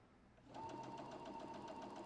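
A sewing machine runs a pillow seam at an eighth-inch allowance, starting softly and settling into a rapid, steady stitching rattle, faint and close with no talk.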